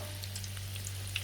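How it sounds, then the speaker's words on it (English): Vegan haggis pakoras fry in hot oil with a soft, steady sizzle and scattered small pops and crackles, close and fairly quiet over a low hum. "you see they're frying nicely and the coating is on there"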